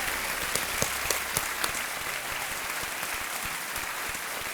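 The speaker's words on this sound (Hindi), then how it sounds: "तालियां बजती रहें।" Studio audience applause on the KBC quiz show, Season 9, a dense and steady clapping that fills the whole stretch at an even level, with a few sharper claps standing out near the start.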